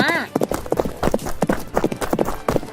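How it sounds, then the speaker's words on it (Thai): Horse hooves clip-clop in a steady rhythm as a prince practises riding, close and fairly loud, with a brief whinny-like tone at the start and a storyteller's voice speaking over the hoofbeats throughout. "มีเจ้าชายพระองค์หนึ่งกำลังฝึกซ้อมขี่ม้า"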